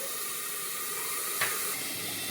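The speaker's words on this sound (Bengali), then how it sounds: "এবার চাপা দিয়ে দিয়ে আমি ভেজে নিচ্ছি" Figs frying in a little oil on a low flame under a lid for a Bengali vegetarian curry, giving a steady close hiss with one short sharper burst midway.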